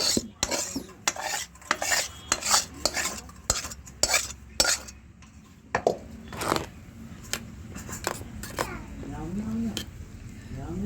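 Chalta chutney is scraped from a wok into a bowl with a metal spoon, a run of sharp clinks and scrapes in irregular bursts, close and fairly loud, then quieter stirring.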